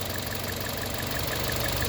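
A warm car engine idles steadily and close by, a continuous even rumble with a faint rhythmic knock and no voices.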